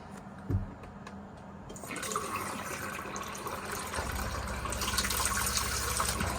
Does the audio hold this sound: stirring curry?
no